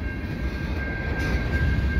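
A CN transfer freight train passing on a rainy evening at Des Courcelles Street, a steady broad rumble with a constant high whine running through, loud and unbroken throughout.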